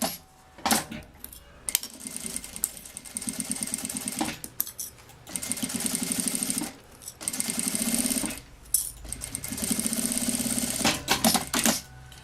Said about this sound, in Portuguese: eu vou passar uma costurinha aqui, ó, na beiradinha desse viés